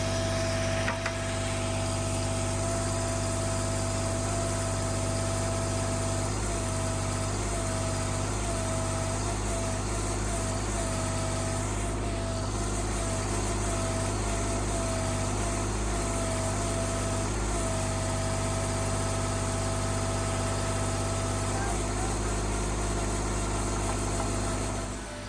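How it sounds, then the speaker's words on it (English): A tractor engine running steadily at close range, a continuous droning hum with a constant pitch and slight fluctuations throughout, with no talking over it. "we came in here with the tractor"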